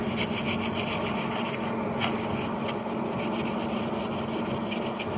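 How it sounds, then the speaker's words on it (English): A brush or applicator scrubs primer hard onto a flat rubber roof membrane, giving a steady, close, continuous rubbing and scraping with a faint rhythmic texture and no talking. "this one you want to really scrub on there, scrub hard. You kind of want to work it into the surface of the membrane"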